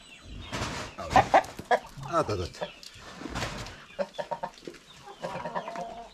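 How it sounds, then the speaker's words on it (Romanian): Roosters on a small farm where hens and chicks are kept, clucking and calling in short, uneven bursts at close range, with a voice mixed in at times. "Acești cocoși sunt foarte blânzi."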